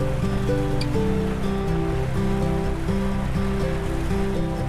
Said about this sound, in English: some crazy downpour I have seen or come across in the recent time